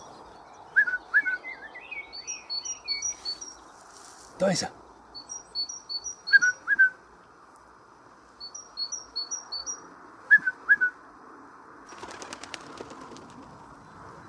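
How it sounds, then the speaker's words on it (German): A single songbird near a small trickling brook gives sharp, high chirps and short twittering phrases in spaced bursts over a quiet background. Someone speaks briefly amid the calls, and a brief rustling thump breaks in once. "Das Zwitschern von einem Vogel."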